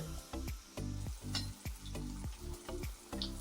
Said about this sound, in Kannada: ಹೀಗೆ ಎಣ್ಣೆಗೆ ಒಂದೊಂದಾಗಿ ಹಾಕ್ಬೇಕು ಎಲ್ಲಾನು ಒಟ್ಟಿಗೆ ಹಾಕ್ಲಿಕ್ಕಿಲ್ಲ